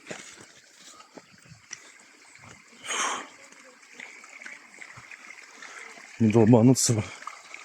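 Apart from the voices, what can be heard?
mountain river water flowing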